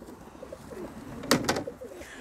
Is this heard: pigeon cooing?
yes